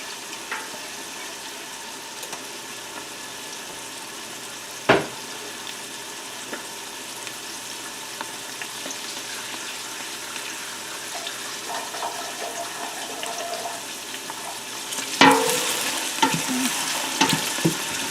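Garlic sautés with translucent onions in a pan for a homemade tomato meat sauce, giving a steady sizzle with a sharp clank near the start and a louder burst of sizzling and stirring toward the end.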